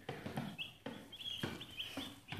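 Cornish Rock Cross meat chicks on their second day cluck and peep softly in a brooder, a steady run of short close calls repeating every half second or so.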